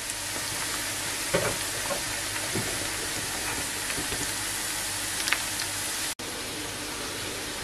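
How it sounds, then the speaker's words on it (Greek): Potatoes fry in a pan with oil, giving a dense, steady sizzle throughout, broken by a few faint clicks and stirring sounds, with no voices. "περιμένουμε να τηγανιστούν οι πατάτες μας"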